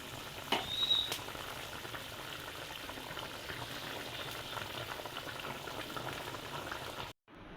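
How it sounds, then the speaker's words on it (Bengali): Meat curry cooks in a pan with a steady, close sizzle and bubbling, plus a few sharp clinks of utensils early on. "মাংস রান্না হইতেছে।"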